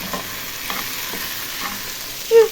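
Onion frying in a pan for eggs, a steady soft sizzle with faint stirring scrapes and a short sharper clink near the end, close and alone.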